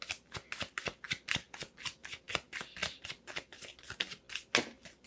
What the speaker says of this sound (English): Let me just pull one more card, okay?